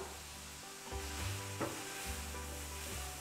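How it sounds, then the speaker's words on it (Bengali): Chopped chicken, carrot and onion sizzle and fry in a pan with ginger and garlic for a Chinese-style chicken wonton filling, with steady close sizzling and a few scraping stirs. "এবার ভেজিটেবল ও চিকেনটাকে কিছুক্ষণ রান্না করে নেব।"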